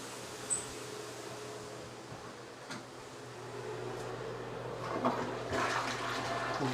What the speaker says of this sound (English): We'll give that its first flush.